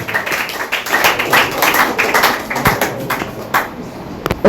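Applause for a school team at a science and maths quiz, a crowd clapping steadily and loudly for several seconds before fading, with a voice faintly underneath.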